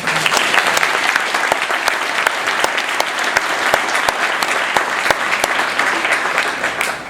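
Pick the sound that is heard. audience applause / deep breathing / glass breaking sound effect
audience applause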